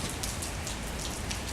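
Rain comes down in a continuous, hissing patter on an outdoor surface. The drops blend into an even wash of sound that stays soft and near throughout.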